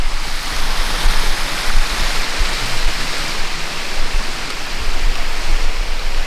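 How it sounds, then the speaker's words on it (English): A river flowing steadily, a dense, continuous rush of water at constant loudness with no pauses, close and alone without any voices. "So here's the river."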